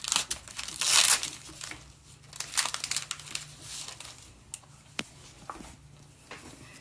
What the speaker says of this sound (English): Rip it all the way open so you can get it out.